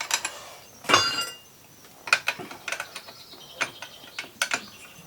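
Wrench ratcheting and clinking against metal parts while working on a 1989 Harley-Davidson Sportster 1200 motorcycle, with sharp clicks and scraping bursts at irregular intervals, close and fairly loud, no talking.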